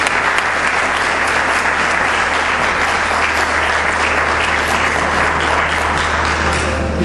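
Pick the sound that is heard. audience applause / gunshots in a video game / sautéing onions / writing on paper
audience applause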